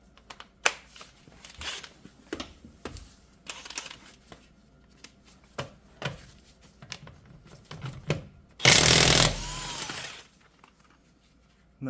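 An impact wrench drives a 21 mm impact socket from a VEVOR 1/2-inch drive set, giving one loud, dense burst of about a second and a half, preceded by scattered clicks and handling clatter of the socket being fitted.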